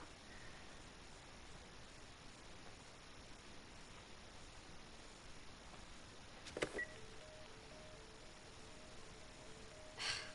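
A dead telephone line in The Last of Us gives a faint, steady electronic tone with soft hiss, followed by a few short beeps near the end.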